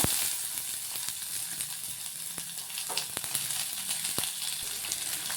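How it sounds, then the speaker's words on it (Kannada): Onions frying in hot oil with spices such as black and green cardamom for a chicken donne biryani give a steady, bright sizzle throughout, with occasional crackles and pops and stirring scrapes close by. "ಆನಿಯನ್ ಹಾಕೋತೀನಿ ಇವಾಗ."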